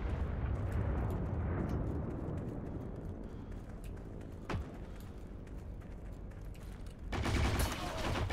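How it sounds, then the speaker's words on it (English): Grenade explosions in the shooter Heroes & Generals during a squad assault, with heavy booming blasts over continuous battlefield rumble and a sharp, loud burst near the end. "They throw about a dozen grenades."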